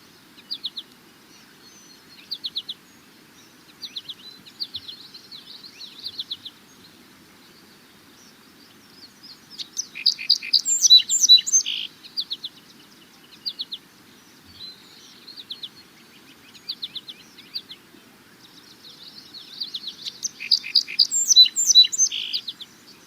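An American goldfinch gives its twittering song and its bouncy four-part flight call, clear and fairly near over a quiet background, in repeated short phrases with two denser outbursts of song.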